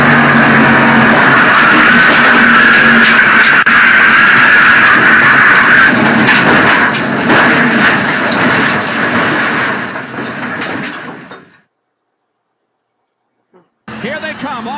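NASCAR stock cars in the Winston 500 roar off the fourth corner in a loud, continuous engine wash that fades out, then returns briefly after a gap.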